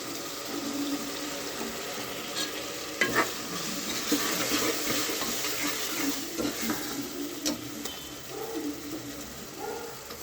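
Spices (turmeric, coriander powder, chili powder) and ground paste being stirred in a frying pan for homemade biryani, a steady scraping sizzle with scattered clinks of the spoon, close and moderately loud throughout.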